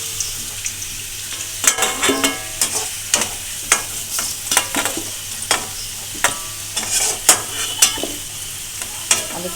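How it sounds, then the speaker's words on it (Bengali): Potato pieces frying in an oily pan, a constant sizzle under a rhythmic series of sharp spatula scrapes and clinks against the pan, close and fairly loud throughout. "আলুটা এইভাবেই ভেজে নেবে"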